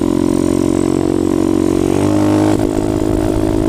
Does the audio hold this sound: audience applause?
no